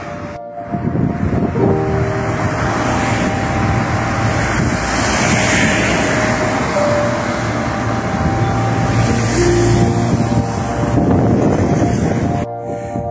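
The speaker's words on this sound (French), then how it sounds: "Il y a du vent." Strong wind buffets the microphone outdoors in a French town street, a loud, continuous roaring rumble that holds steady for most of the stretch before cutting off near the end.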